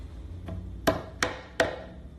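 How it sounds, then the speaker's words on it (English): A hammer gently taps screw caps into a Closetmaid shoe organizer rack: one faint knock followed by three sharp, close taps in an even rhythm, with quiet pauses between them. "I'm gonna get a hammer to knock this in"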